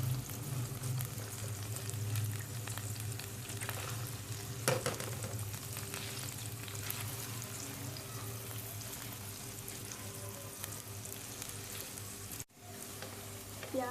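Onions fry in a pan with a continuous, even sizzle that holds steady throughout, breaking off briefly just before the end.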